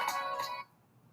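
A telephone on a live call-in radio show gives a short electronic ring of two quick pulses, then cuts off into near silence.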